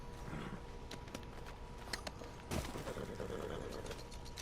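Faint, quiet hoofbeats of a horse in the video game Red Dead Redemption 2, a steady clip-clop under soft ambient game sound, with one louder thump partway through.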